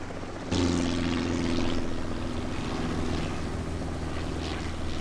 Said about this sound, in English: Let's get away from the helicopter